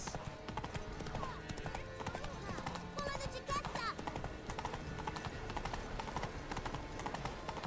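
Horse hooves clip-clop at a quick, steady gallop through a town in The Witcher 3, a rapid rhythmic patter mixed with game sounds and a faint whinny, with a voice talking over it.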